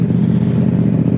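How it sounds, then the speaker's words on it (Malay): A motorcycle engine drones steadily while riding on the road toward Pattaya, a loud continuous low rumble with no break, heard up close. "Enjin aku dah bunyi kipas dah ni."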